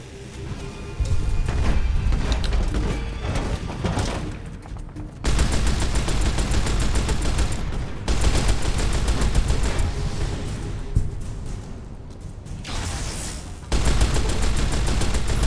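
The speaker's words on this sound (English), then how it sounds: "That was a light machine gun." Light machine gun fire in Fallout: New Vegas, Lonesome Road: long, dense bursts of rapid automatic shots, loud and close, broken by brief pauses, with no talk over it.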